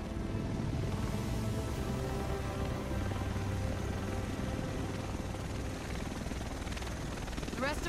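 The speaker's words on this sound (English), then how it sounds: "The rest of us should be in this chopper" A helicopter arrives in the video game Tom Clancy's The Division, a steady, dense rotor roar that fills the whole stretch at constant loudness, with no voices over it.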